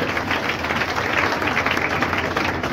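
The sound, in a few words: audience applause welcoming Poonam Mishra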